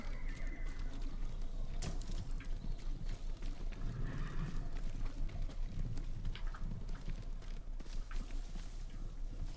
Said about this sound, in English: It's hearing like a trail of horses running.